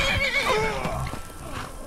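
In Skyrim, a horse gives a loud, wavering neigh that rises and falls over nearly two seconds, mixed with hoof clopping and the game's ambient background.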